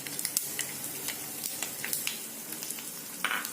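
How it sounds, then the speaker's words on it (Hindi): Mustard seeds sizzle in hot oil for a fish curry, giving a faint, steady frying hiss scattered with small crackling pops. "अभी हमारा तेल गर्म हो चुका है। अभी इसमें मैं डालूंगी सरसों, 1/2 टेबलस्पून जैसा डालूंगी।"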